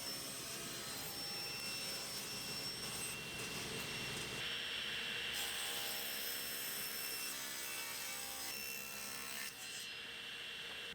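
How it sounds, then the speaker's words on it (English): A power saw set to a 60-degree angle cuts wooden pieces for a giant pencil lamp, giving a steady, loud whine and rasp that runs continuously with slight shifts in tone. "First thing I needed to do was set the saw at 60 degrees."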